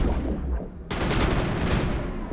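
Garrus fires his weapon in the Mass Effect game, a loud, rapid burst of gunfire that breaks in suddenly after a low rumble and keeps rattling on without voices.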